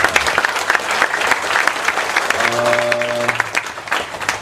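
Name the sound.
audience applause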